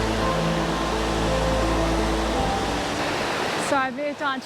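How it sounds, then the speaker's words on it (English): A broad, calm waterfall cascading evenly, heard as a steady, close wash of broadband rushing water that holds for most of the moment, then drops away as a voice begins to speak near the end. "It's a much broader fall, and so the water is more evenly dispersed as it's cascading down"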